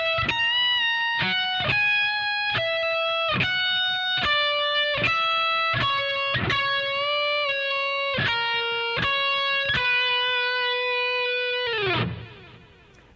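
An electric guitar with a distorted, sustaining tone plays a lead solo phrase of ringing single notes, some bent, before a final note fades out. The guitar plays alone.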